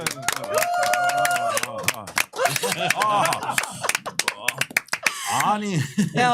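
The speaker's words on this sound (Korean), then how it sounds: "저희 박수부터 치고 시작할까요?" Several hands clap in scattered bursts while people talk and laugh over them, close by.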